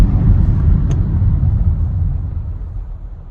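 A Hyundai Tucson 1.6 turbo petrol towing a Swift Kudos caravan after leaving the motorway, heard from inside as a steady low engine and road rumble that fades slightly toward the end.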